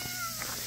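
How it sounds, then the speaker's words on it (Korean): A cat meows faintly at a large mountain campground in Yangpyeong, beside the pension building's sinks, toilets and showers; brief soft mews sit over quiet background hiss, with no talk. "야옹야옹야옹"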